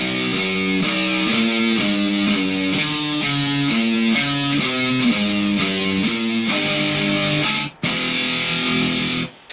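Distorted electric guitar plays a riff, chugging power chords and single-note runs in a steady rhythm, loud and close, with a brief cut near the end.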